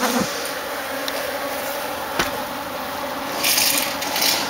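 Guard bees swarm at a honey-dripping hive cutout, a dense, steady buzz holding close and constant with a few brief rubbing scrapes and no voices.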